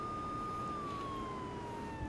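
A police car siren in GTA 3 Definitive Edition, a single steady wailing tone slowly falling in pitch, faint and continuous over a low game background hum.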